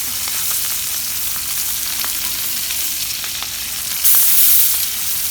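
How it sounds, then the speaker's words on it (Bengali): Small cut fish sizzling and spattering in hot oil in a pan, a steady broadband fry with scattered crackling pops throughout and a brighter hiss burst near the end. "মা এখন একটু মাছ দিয়ে দিতেছে, তেল ছিটাইছে"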